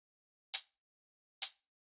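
A layered lo-fi hi-hat in a very simple pattern gives two short, crisp ticks almost a second apart, faint and isolated against silence.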